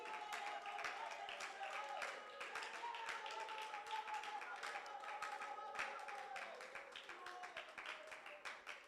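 A church congregation claps in steady rhythm, many hands beating together at moderate volume, with voices singing and talking underneath.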